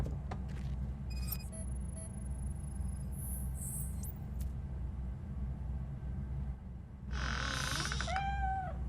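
Meowing from a cat in RoboCop: Rogue City, a few short faint cries early on, then a louder, drawn-out meow near the end over a steady low ambient rumble.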